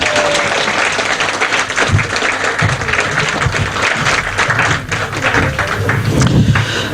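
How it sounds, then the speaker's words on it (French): Audience applause at a union congress, a dense, steady wash of many hands clapping that fills the room for several seconds, loud and continuous with occasional thumps. "Voilà, donc vous pouvez les applaudir."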